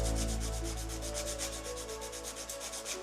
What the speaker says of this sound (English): So first I'm filing it down,